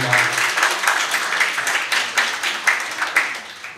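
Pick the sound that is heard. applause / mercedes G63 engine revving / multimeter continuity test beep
applause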